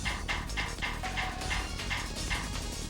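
A dog barks repeatedly in the Warriors Orochi video game, a steady run of short barks over a dense, continuous game soundtrack.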